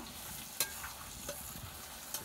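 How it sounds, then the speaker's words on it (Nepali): Meat fries in oil in a pan in a Nepali village kitchen, sizzling softly and steadily while a utensil scrapes and stirs it with a few sharp clinks. "यहाँ मासु पनि फ्राई गरिसकेँ"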